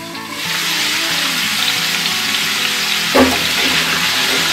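Pumpkin sabzi fries in a pan with a steady, close sizzle that holds at an even level throughout, and a brief clatter comes near the end.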